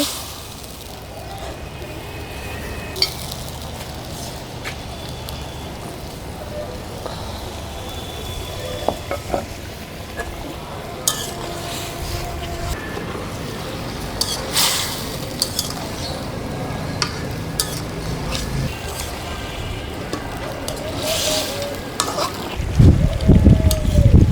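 Pieces of boal fish head go into a pan of spice paste, giving a continuous close sizzle and frying crackle with scraping stirs and pan knocks, ending in a burst of louder bubbling.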